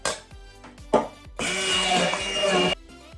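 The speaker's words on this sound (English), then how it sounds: "Then I'm going to use my stick blender. Basically we're going to blend them." A stick blender blending blackberries whirs loudly and steadily for about a second and a half, preceded by a few short clicks and bumps.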